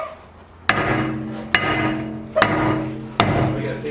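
A hammer strikes a Nissan S14 rear brake rotor to free it, four heavy metallic blows at roughly even spacing, each ringing briefly before the next, close up.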